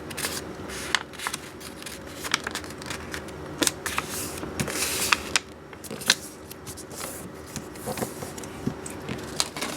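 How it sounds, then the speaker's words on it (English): A square sheet of origami paper is folded in half and creased, giving a series of soft crinkles, rustles and sharp crackles close by, irregular and fairly quiet, with no talk. "fold the square sheet of paper in half,"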